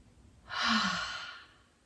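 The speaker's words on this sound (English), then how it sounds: "So first the clearing breath, in through the nose and out the mouth." During a chair yoga session, a person takes a single clearing breath, in through the nose and out through the mouth. The long, airy, close-up exhale swells and fades over about a second, with no speech.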